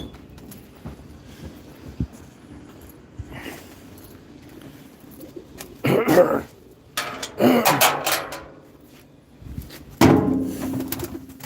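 Pigeons are tossed up to fly, with several loud bursts of flapping wings and some soft cooing amid clattering handling sounds.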